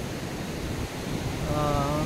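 Mountain stream flowing beside a trail on the way to Tsho Rolpa in Nepal, a steady rushing wash of water under voices and a short hum near the end.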